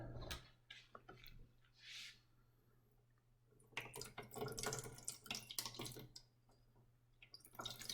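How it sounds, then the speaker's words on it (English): A faucet runs in bursts as an egg soaked in corn syrup is rinsed under the tap in a lab sink, soft splashing and trickling with quiet pauses between, fairly faint. "he's going to rinse it off now a little bit"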